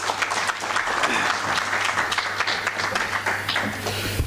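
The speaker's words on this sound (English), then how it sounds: "Another round of applause." Applause from the audience at the UNILISA 2025 conference fills the room as even, sustained clapping from many hands, with a low steady hum running underneath.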